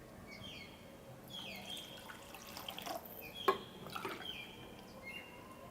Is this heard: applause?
no